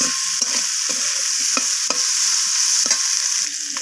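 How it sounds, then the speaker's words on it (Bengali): Vegetable dal stirred in a pan over a steady sizzling hiss, with a spoon scraping in several distinct strokes, close and fairly loud. "লবণটাকে দিয়ে আমি আবারও নাড়াচাড়া করে দিলাম"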